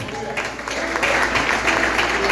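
Congregation applause at a family church service, a steady wash of clapping that holds at even loudness for a couple of seconds.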